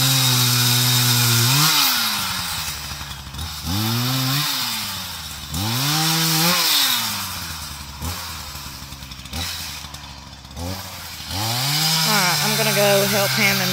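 A chainsaw roars nearby, its engine revving up and bogging down repeatedly as it bites into tree wood, clearing trees for a field, loud and continuous for the whole stretch.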